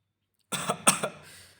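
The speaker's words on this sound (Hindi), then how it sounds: "कुत्ते को खांसते हुए पहली बार देख रहा हूँ।" A dog character in a comic-style Hindi audio drama coughs in a short burst of three rough, close hacking coughs, with no talk over them.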